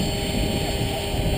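An Align remote-controlled helicopter hovers in place in APS stabilization mode, giving a continuous buzzing whir of motor and rotor, close and fairly loud, with no pauses over the brief moment.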